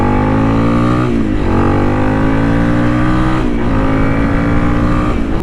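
A Honda CRF300L motorcycle accelerates hard on the road, its engine rising in pitch through two gear changes, loud and close over steady wind rush.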